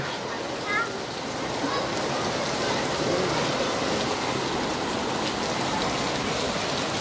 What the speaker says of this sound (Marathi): अरे पाऊस चाललाय लवकर जा